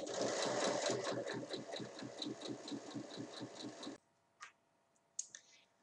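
A sewing machine stitches a seam down the side of a fabric basket, a fast, even rhythmic whirring and clicking run of about four seconds that stops abruptly, followed by a few soft handling clicks.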